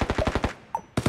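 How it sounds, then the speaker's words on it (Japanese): Automatic gunfire in the mobile battle royale game Knives Out: a fast rattling volley of rapid shots, a brief gap with a lone crack, then another burst, fairly loud with no talking. "銃声近いぞ、 銃声近いぞおい"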